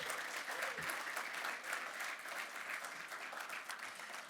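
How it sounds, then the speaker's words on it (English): An awards-ceremony audience gives a steady, full round of applause for Archie Manning and Cam Ward, many hands clapping evenly from start to finish. "one more round of applause for Archie Manning and Cam Ward"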